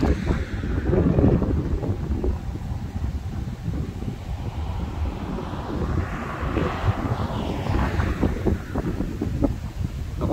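Strong wind during a severe supercell thunderstorm buffets the microphone with a constant roar and gusty low rumbling, with a faint rushing of water underneath.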